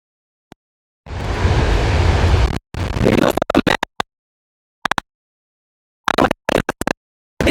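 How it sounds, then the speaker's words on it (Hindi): Wind gusts outdoors buffet a Grenaro P10 wireless microphone, a loud roaring rumble for over a second followed by a burst of choppy blasts and scattered short puffs, with dropouts between them. "तो हवा भी चल रही है"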